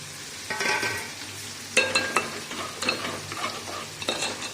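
Boiling milk with sugar being stirred in a pot, close scraping and clinking strokes from the spoon come in irregular bursts over a low bubbling sizzle, with no speech.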